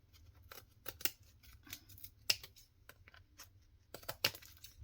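Scissors trim the excess edge of a board book junk journal in a quiet room, giving several sharp, close snips spaced irregularly with soft handling noise between them.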